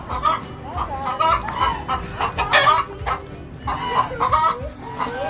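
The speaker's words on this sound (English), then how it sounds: "Look at all the chickens." Chickens cluck and a rooster crows in a farm barnyard, their calls overlapping in busy, uneven bursts close by, with faint voices in the background.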